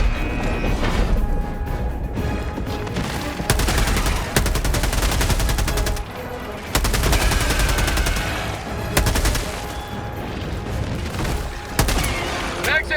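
A player's weapon firing in Helldivers 2: loud, rapid automatic bursts in several clusters separated by brief pauses, with heavy booming impacts layered over constant battle noise.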